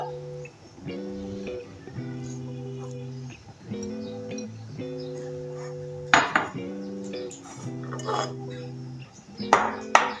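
A large bowl and metal utensils clink and ping together as cooked potatoes and other cutlet ingredients are shifted in a kitchen, with a voice talking throughout and a few louder clatters near the end.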